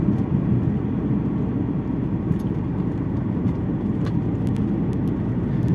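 An Alfa Romeo 166 saloon being driven makes a steady, low engine and road rumble that stays even throughout, heard from inside the car, with no talking.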